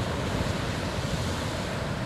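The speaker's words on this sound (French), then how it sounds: "Une petite minute là de vague" Ocean waves rolling in at Étang-Salé beach on Réunion, a steady, dense wash of surf with strong wind buffeting the microphone, continuous and fairly loud throughout with no voices.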